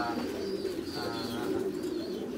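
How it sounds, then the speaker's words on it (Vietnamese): Thai Titan meat pigeons coo steadily on a pigeon farm, a continuous layered murmur of soft throaty calls with no gaps, moderately close and even in level throughout. "cái dòng chim bồ câu ti tan thái siêu thịt này thì mình hay nói là dòng chim bồ câu chất lượng nhất hiện nay"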